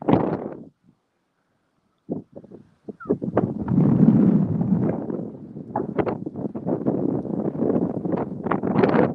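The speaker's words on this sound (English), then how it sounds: "It's a bright sunny day, a bit windy, as you have probably heard." Gusty wind buffets the microphone in loud, low rumbling bursts, dropping out briefly before roaring back steadily with sharp flutters.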